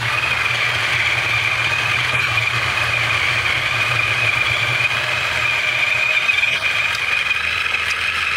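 Two coffee grinders, a Wilfa Uniform and a Niche Zero, run together at the same grind setting, making a steady, close motor whir with a bright grinding hiss that holds without a break.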